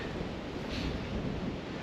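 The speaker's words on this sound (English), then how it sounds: "Proper windy." Steady, roaring wind buffets the microphone throughout, a constant low rumble with broadband rush and no voices.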